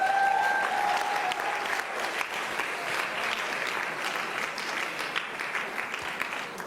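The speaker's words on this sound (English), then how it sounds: "Can we clap for Pastor Matthew once again?" A congregation-style audience at a wealth summit claps for a pastor, a loud, full burst of applause that holds steady and thick, with a brief tonal beep near the start.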